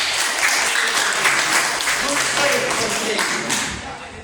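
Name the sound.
applause for a friend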